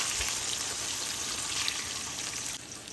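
Eggplant pieces fry in hot oil for a Bengali labra vegetable curry, a steady soft sizzle and hiss that holds evenly, then drops slightly near the end.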